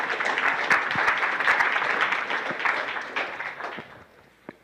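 Audience applause at a hackathon kickoff event as a sponsor team is called to the stage, a dense sustained clapping from a crowd that holds steady for about three seconds and then thins out and fades near the end.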